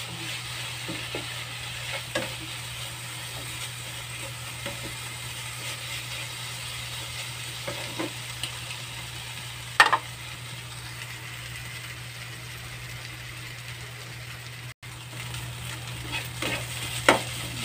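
Potatoes frying in a pan before eggs are added, a steady soft sizzle under a low hum with occasional scraping stirs and clinks of a utensil.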